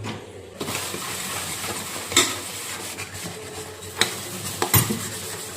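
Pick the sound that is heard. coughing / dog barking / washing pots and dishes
washing pots and dishes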